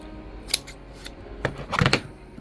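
Scissors clipping a flocked Christmas tree: several sharp, close snips, two isolated cuts early, then a quick cluster of crisp clips toward the end, with no talking.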